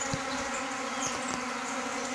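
Honey bees gathered at winter feed set out on corn, their dense, continuous buzzing close and steady, with individual insects droning past now and then.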